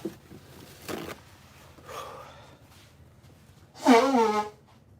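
A person blows their nose in a few short bursts with soft breathing between, the last blast loudest and close, in an otherwise quiet room.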